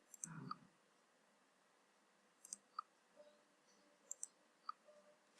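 Computer mouse clicks, sharp isolated ticks scattered across a quiet background, some in quick pairs, with a soft rustle near the start.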